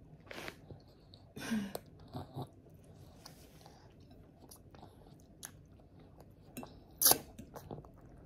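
A small child eating meat sauce pasta and pumpkin, with scattered soft bites and chewing sounds close by, a few sharper smacks and one brief bright click, over quiet room background.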